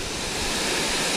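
Steady, loud rushing water roars without a break, a dense white-noise wash like a creek waterfall close by.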